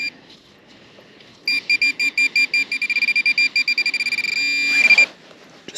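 Minelab Manticore metal detector on a beach giving a rapid series of electronic target beeps that speed up into a steady tone, then a rising sweep, close and clear over faint background noise.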